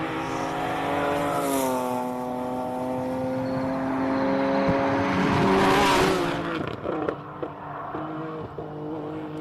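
A classic race car accelerates up the Simola Hillclimb, its engine note climbing in a loud rising whine, then easing off with throttle blips as it passes and fades into the distance.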